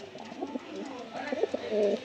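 Giribaj and Madrasi pigeons coo in soft, throaty repeated calls at close range, several overlapping rolls in a loft, with no talk.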